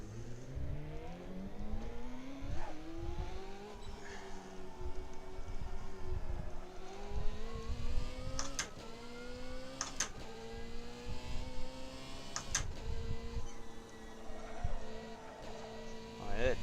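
A race car engine in the Assetto Corsa driving game hums and rises through gears on cold tyres, with repeated upshift drops and short tonal sweeps, heard under occasional talk.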